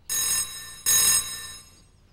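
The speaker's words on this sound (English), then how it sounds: "someone's calling on the picture phone" Cartoon picture phone ringing with two bright electronic bell bursts, loud and close, separated by a short pause, with no voices.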